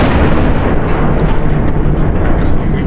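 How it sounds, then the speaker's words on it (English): A rocket launcher fired in Fallout: New Vegas, loud continuous booming explosions rolling together into one dense roar with no pauses. "I'm just gonna pull out Annabelle. Her rocket launcher"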